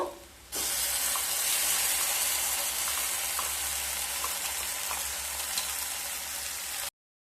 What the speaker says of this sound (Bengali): পেঁয়াজ আর রসুন হালকা ব্রাউন কালার করে ভাজা হয়ে গেছে। এরপর শাকের পেস্টটাকে দিয়ে দেব।